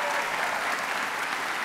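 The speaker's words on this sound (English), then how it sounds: "Let's clap for math, shall we?" Audience applause at a teacher appreciation event, dense and steady clapping from a large crowd filling the whole moment without a break.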